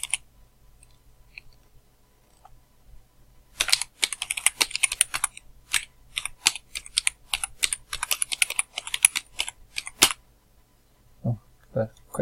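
Rapid clicking of computer keys as an email address is typed, a dense run of close, crisp keystrokes in two bursts with a short pause, then a few softer sounds at the end.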